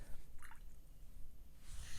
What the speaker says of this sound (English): I'm going to rinse off my brush